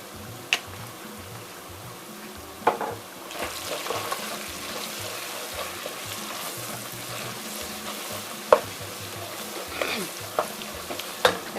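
A spoon stirring chicken stew seasoned with curry powder and nutmeg in a pan, making a steady soft sizzle and scraping with occasional sharper knocks against the pan, close and continuous.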